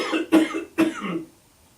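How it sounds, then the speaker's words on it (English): Two sharp coughs about half a second apart, close and fairly loud, each trailing into a short breathy rasp, from a man pausing while working in his workshop. "coughing break"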